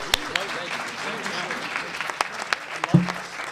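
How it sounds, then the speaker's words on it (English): Applause from a crowd after a speech, scattered claps over a murmur of voices, fairly light and distant. "How about a big round of applause?"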